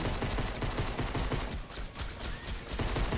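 Rapid gunfire from the Fortnite zombie mode, a loud, dense barrage of overlapping shots with no pause across the whole stretch.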